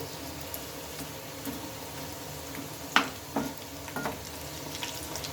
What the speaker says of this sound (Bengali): তো চলো এগুলো তো ভাজা হতে থাক